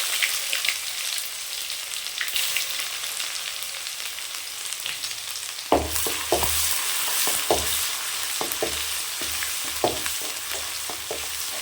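Mustard seeds, urad dal and ginger garlic paste frying in hot oil for a mutton curry, a steady sizzle broken by a run of sharp crackles and pops from about halfway on, close and without talk.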